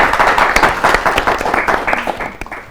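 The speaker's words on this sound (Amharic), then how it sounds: "እሺ አጨብጭቡላቸው በደንብ አድርጋችሁ።" Students and audience clapping for classmates at a school event, a short steady burst of applause with crisp, closely spaced claps fading slightly toward the end.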